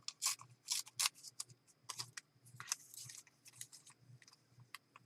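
A small piece of paper is torn by hand during a journal craft session, heard as a series of close, crisp ripping and crinkling bursts in short uneven spurts.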